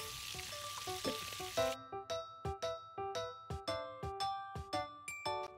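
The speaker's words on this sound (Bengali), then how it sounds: "এখন আমি চিংড়িগুলো সুন্দর করে ভেজে নেব এপিট ওপিট করে।" Shrimp sizzle in hot oil in a pan for a short burst at the start. The frying then cuts off and a run of separate, ringing plucked tones follows.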